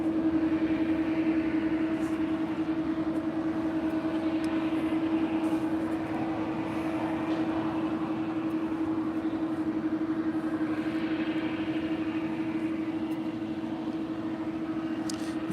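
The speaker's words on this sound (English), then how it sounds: "That was American 2475 departing to Las Vegas on a 7-year-old A321." A seven-year-old American Airlines Airbus A321 departing LAX for Las Vegas, a steady distant jet roar with a sustained tonal hum, holding level for the whole stretch without voices.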